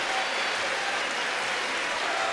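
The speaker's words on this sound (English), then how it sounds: "this Cameron crazy crowd has come alive on this Friday night" A basketball arena crowd at Cameron Indoor Stadium on a Friday night during a Duke game, applauding and cheering in a loud, steady, dense roar from start to finish.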